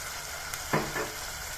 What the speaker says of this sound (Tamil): இது கொஞ்சம் எண்ணெயில வதக்கட்டும்